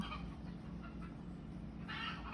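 Chickens cluck softly in the background over a constant low hum, with a brief louder squawk near the end.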